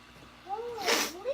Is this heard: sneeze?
yes